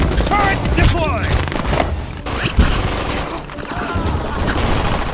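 Deployed turret in the shooter game Brink opening up in a busy firefight, rapid automatic bursts and mechanical clatter mixed with explosions and dense battle noise, with voices talking over the action.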